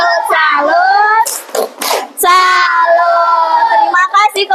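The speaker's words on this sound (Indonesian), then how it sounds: "Beri tepuk salut dulu yuk" A classroom group performs a clapping salute chant for a fellow group. Voices chant in unison and are broken by short bursts of sharp clapping.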